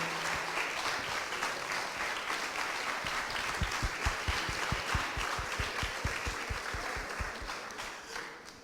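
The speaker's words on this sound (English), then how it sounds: "Give a round of applause to James and Vanessa." Audience applause for two speakers after a talk on segregation and Black Lives Matter: sustained, fairly distant crowd clapping with a few louder, distinct claps standing out through the middle.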